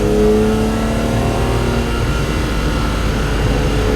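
A BMW E9 coupe fitted with the S38 engine from an E34 M5 pulls hard on the Autobahn, its loud, steady engine drone holding close and continuous with a rising whine and no talk.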